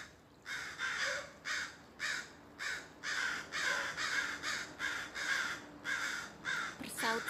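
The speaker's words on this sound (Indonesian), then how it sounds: "Itu burung gagak." Several crows caw in rapid repeated bursts, answering one another from outdoors in a wooded area in America, with short pauses between calls and a faint distant voice near the end.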